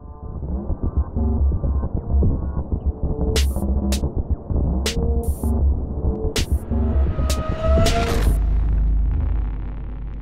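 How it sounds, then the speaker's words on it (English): An old television's static on/off effect: loud buzzing, humming static with rhythmic throbbing pulses and sharp clicks, ending in a deep rumbling drone, with no talking. "creating this classic TV static on-off effect"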